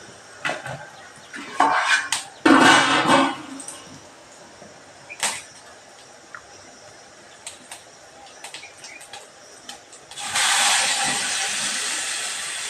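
Spices sputter and crackle in hot oil for tomato chutney, with irregular bursts of sizzling and a louder sustained hiss near the end, amid kitchen clatter.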